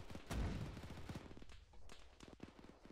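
Repeated gunfire crackles through a video game battle in the Krazovian last stand, with bursts of shots and heavier booms under faint callouts.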